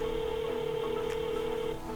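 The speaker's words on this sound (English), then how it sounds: "It's ringing." A telephone rings on an outgoing call, a steady continuous tone heard through the line, faint and alone, with a brief click near the end.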